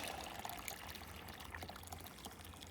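Boiling water is poured into a container for a lasagna soil bed: a faint, steady liquid stream trickles and splashes continuously against a low background hum, with no voices.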